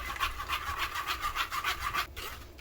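Ground tomato sauce for homemade pizza being pushed and rubbed through a sieve, a steady rhythmic scraping and rasping repeated about every quarter second, close by with no talk.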